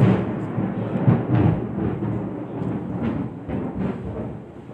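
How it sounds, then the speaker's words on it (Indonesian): Thunder rolling during rain, a deep, sustained low rumble that swells and fades in waves, fairly close and loud, with no other sounds over it. "ada petir."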